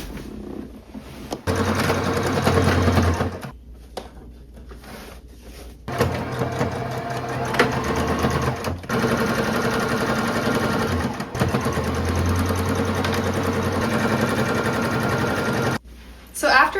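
Sewing machine running a rolled hem along the bottom edge of a fabric top, its steady mechanical whir starting and stopping in several long bursts with short pauses between.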